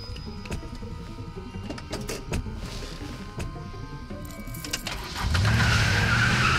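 Car in The Walking Dead Season 1 video game pulling away in a hurry after scattered clunks and impacts, then a loud engine roar with tire noise surging up over the final second and a half, no voices.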